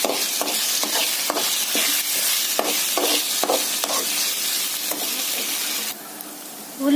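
Onions, ginger and garlic fry with a steady broadband sizzle while a utensil stirs and scrapes them in regular strokes, close and fairly loud; near the end the frying quietens briefly before a louder burst returns.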